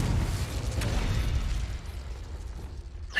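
A Confringo fire-blast spell from Hogwarts Legacy erupts in a loud, broad explosive rush that fades over a few seconds, followed by a small crackle near the end.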